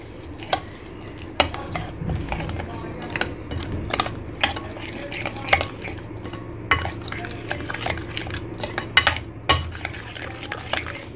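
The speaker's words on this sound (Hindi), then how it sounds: "इसे अच्छी तरह से मिक्स कर लेंगे तमाम मसालों को" A spoon works through yogurt, lemon juice and spices in a bowl for a butter chicken marinade, giving repeated close scraping and clinking strokes at an uneven rhythm, with no one speaking.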